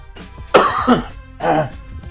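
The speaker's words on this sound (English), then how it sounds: "Still got a cough." Two harsh, loud coughs close to the microphone, a rasping burst followed by a second shorter one after a brief pause.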